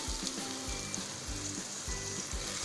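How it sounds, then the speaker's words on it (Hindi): Keema (minced meat) and lobia (black-eyed beans) frying in a pan, a steady close sizzle with soft rhythmic stirring bursts, no talking. "यहाँ पे देखें कीमा और लोबिया को फ्राई करते हुए हमें 3 से 4 मिनट हो चुके हैं"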